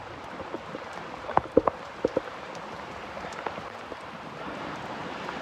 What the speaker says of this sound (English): Now, this is a nice little downpour.